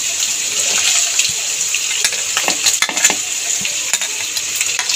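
Chicken pieces fry in a pan with chopped onion, garlic and chilli for a desi-style penne pasta, giving a steady, loud sizzle with scattered clicks and scraping as the pan is stirred, and no voices.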